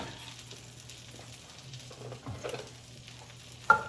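Chopped garlic hitting extra virgin olive oil in a pan, giving a soft, steady sizzle and light stirring at close range, with a sharp clink near the end.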